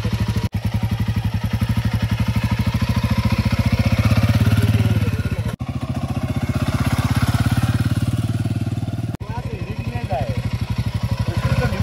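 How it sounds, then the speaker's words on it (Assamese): A Royal Enfield Himalayan 450 is ridden in Bhutan, its engine pulsing in a loud, fast, steady thump close by with a few brief dips in the drone. "এটা টেষ্ট ৰাইড কৰিম অফৰোড বলে বহুত ধুনীয়া হয় ডাইৰেক্ট ভুটানত আজি হিমালয়ান 450 চলাম"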